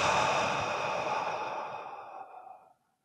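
A long, breathy exhale during a guided breathing meditation, close and fairly loud at first, then slowly fading over about three seconds into silence.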